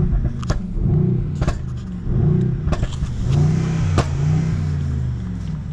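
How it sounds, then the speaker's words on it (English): A 2021 Mercedes GLS 63 AMG engine revs hard under acceleration. The deep rumble rises and falls in several surges, loud and close, with no talking. "I'm gonna press the acceleration pedal."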